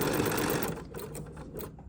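An embroidery sewing machine over-sews a few stitches, a close, rapid steady buzz that breaks into short choppy bursts and stops.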